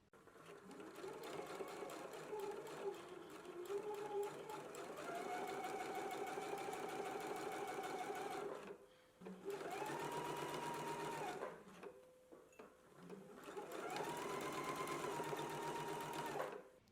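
A sewing machine stitches a pocket onto an apron, running in long steady bursts with two brief pauses where the stitching stops at the corners before starting again.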